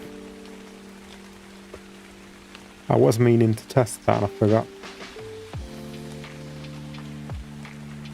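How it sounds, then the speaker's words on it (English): Steady rain in a building video game hisses softly and continuously in the background, beneath game tones and someone talking. "Just get rid of this rain. Nobody wants rain."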